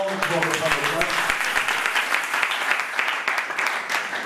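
Church congregation at a French-language worship service breaking into steady applause and clapping, a dense wash of hands lasting several seconds at moderate loudness.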